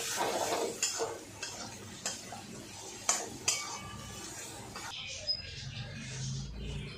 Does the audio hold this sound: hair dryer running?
no